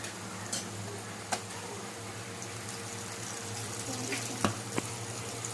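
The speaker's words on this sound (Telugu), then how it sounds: "గ్రీన్ పీస్ ఈ మాత్రం ఫ్రై అయితే సరిపోద్దండి" Green peas frying in a pan for a paneer curry, a soft, steady low sizzle heard close by with a few sharp clicks and pops scattered through it.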